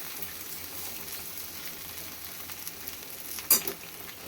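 Okra being stir-fried in a pan with a spoonful and a half of crushed peanut powder, a soft steady sizzle with faint stirring scrapes and one sharper clink near the end, no talking.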